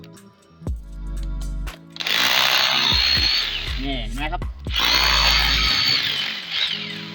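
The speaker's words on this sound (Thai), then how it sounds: "เจาะแล้วก็กระแทกนะครับ" A budget hammer drill runs in hammer mode into concrete, giving two long, loud bursts of harsh rattling drilling with a short pause between them, while someone speaks briefly before and between the runs.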